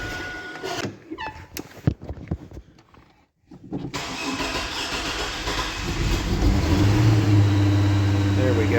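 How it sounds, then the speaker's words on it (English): A Chevrolet 4.3 Vortec V6 cranks and fires up with a broken plug wire causing a misfire, then settles into a loud, steady idle close by after a brief gap following earlier clatter and handling noise. "My engine is actually going to have a misfire because I broke a plug wire on it"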